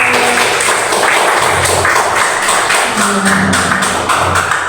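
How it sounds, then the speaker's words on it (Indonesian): A room of teachers and staff applauds warmly for a teacher at a school gathering, loud dense clapping that holds steady throughout without pause. "Kita kasih aplaus meriah untuk Pak Ipan"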